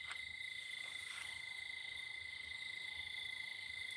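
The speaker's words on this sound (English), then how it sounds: "Oh, you hear cicadas, crickets. No, there's tree frogs." Crickets and tree frogs chirp outdoors at night in a steady, layered chorus of sustained high trills with faint pulsing calls, fairly distant and continuous with no talking.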